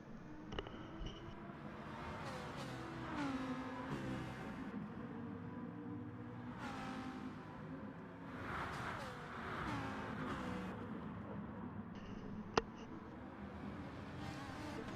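Engines of Gr. 4 race cars in a racing video game drone and rise in pitch as they run down the finish straight, several cars passing in overlapping whines at moderate, steady volume.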